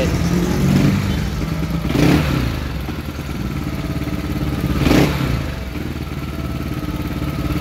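A fuel-injected motorcycle engine idles high with a mechanical clatter, revving up sharply three times with throttle blips and dropping back between them.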